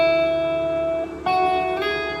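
Electric guitar playing the first chorus of a song as a few clear ringing chords, each held and then restruck, close and alone with no talking.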